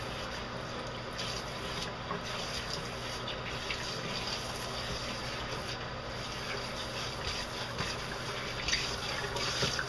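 Running water pours steadily from a basement tap during a final rinse, a constant soft gushing hiss that stays even throughout, fairly quiet with no voices.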